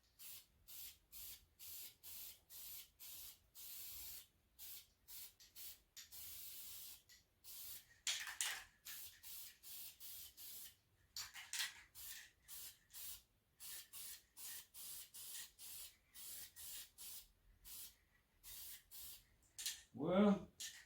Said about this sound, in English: I'm going to spray that piece of aluminum